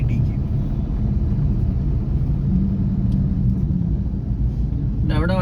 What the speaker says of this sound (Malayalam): അവിടെ വണ്ടികൾ ഓടുന്നുണ്ട്